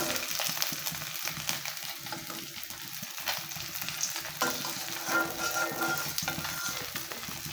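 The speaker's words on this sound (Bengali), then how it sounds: "মাছগুলো ভাজা হয়ে গেছে এখন আমি কড়াই থেকে একটা একটা করে উঠিয়ে নিচ্ছি" Continuous loud sizzle of oil in a wok with occasional clinks and scrapes as fried climbing perch are lifted out one by one; no talking.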